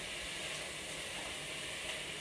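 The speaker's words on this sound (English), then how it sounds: "You want that sizzle. You know, that means it's cooking." Food sizzling in a hot pan while loaded potato cheese soup is being made, a steady, close hiss and crackle that holds evenly throughout with no talking over it.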